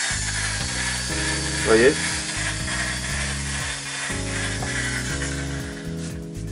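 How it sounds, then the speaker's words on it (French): A slow, powerful drill turns a homemade paddle mixer in a bucket, giving a steady, loud mechanical whirring with a regular rhythmic pulse, while someone speaks briefly in French over it. "il faut une perceuse qui tourne tout doucement et qui ait beaucoup de force"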